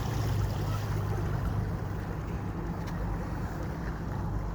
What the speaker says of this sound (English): here's a commercial barge, probably 200 feet long, moving backwards through a bridge